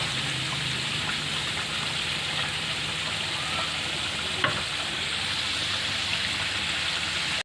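Chicken for ayam geprek fries in hot oil with a dense, continuous sizzle like steady rain, loud and close, with one brief clink partway through and no talk.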